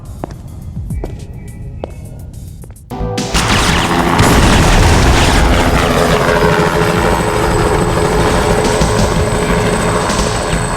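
A helicopter from a Syphon Filter PS1 game cutscene roars in suddenly after a quieter stretch, then holds as a loud, dense, steady rotor and engine wash with a low rumble, close and continuous to the end.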